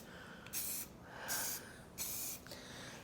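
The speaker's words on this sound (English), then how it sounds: "just gonna start with this beautiful purple" Purple paint bursts from a spray can in three short, hissing sprays separated by brief pauses, close and clear against a quiet room.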